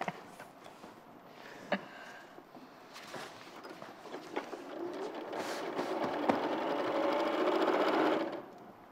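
A sewing machine stitches down the side of black, white and mint quilt squares, running in short bursts before a steady, louder whir toward the end.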